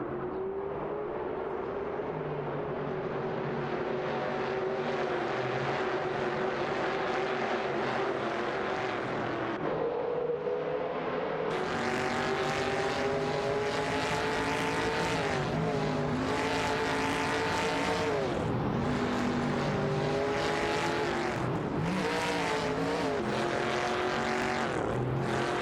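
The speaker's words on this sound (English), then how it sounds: "The tension is rising as these cars jockey for position on the track." Dodge Charger and AMC Matador race cars roar continuously around a video game track, engine tones rising and falling with gear shifts as several cars run close together, loud and steady throughout.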